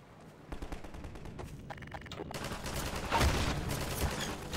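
Rapid, continuous gunfire rattles through a Half-Life 2 firefight, the dense bursts swelling louder toward the end with no pause in the shooting.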